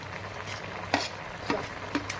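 Onion paste and peanuts fry in a pan for a bitter gourd dish, a low sizzle under a few quick spatula scrapes and taps as the mixture is stirred, close by.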